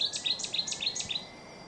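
Wetland songbirds of Britain and mainland Europe sing in a dense, layered soundscape, with quick bright chirps and trills tumbling over one another, close and clear over a faint ambient hiss, with no voices.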